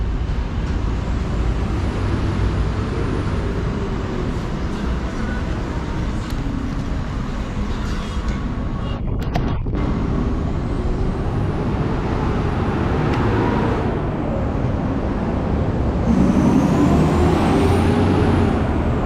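A bus idles and moves at a roadside stop in Kuala Lumpur city traffic, a steady engine rumble with a sharp hiss of air brakes midway and a louder surge near the end.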